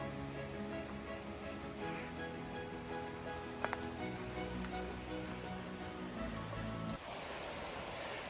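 Creek in the Quinault Rain Forest of Olympic National Park flows as a steady, moderately distant wash of water that holds for several seconds and shifts slightly near the end.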